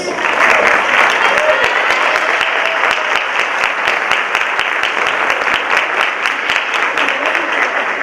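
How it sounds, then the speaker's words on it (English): A crowd claps steadily and loudly for several seconds at a high school hall of fame induction ceremony, a dense wash of applause with a few voices mixed in. "give them a round of applause"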